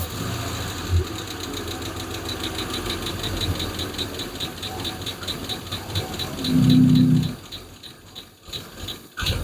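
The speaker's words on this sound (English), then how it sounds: "I just got that one lifter clanking." A Hemi V8 in a Plymouth Duster idles with a single lifter clanking, a fast steady metallic ticking riding over the engine's rumble, with a brief louder surge of revs near the end.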